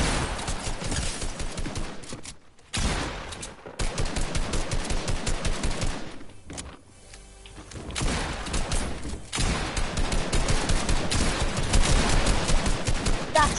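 Video game firefight with dense, rapid automatic gunfire in long sustained bursts, broken by a few short pauses, loud and close with no speech.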